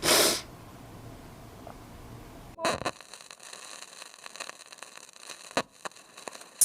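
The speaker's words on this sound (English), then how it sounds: "So I'm going to sneeze now again." A short, sharp sneeze bursts out at the start, followed by sniffs and snorty breaths against a faint background hiss.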